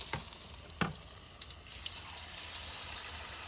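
Pia-pia fritters frying in a pan outdoors beside rice fields: a soft, continuous sizzle with a few sharp crackles and pops near the start, fairly quiet and close, with no talk.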